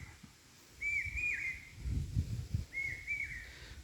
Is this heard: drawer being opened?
no